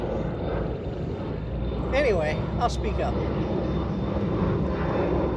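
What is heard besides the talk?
airplane taking off overhead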